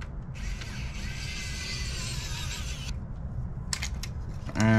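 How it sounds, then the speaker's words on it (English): Small screws are driven back into a PS3 Slim CECH-2001 console during repair, producing a continuous close ratcheting click of a screwdriver, then a brief pause and a few sharper clicks and knocks at the end. "Now we got these four screws that we have to reinstall."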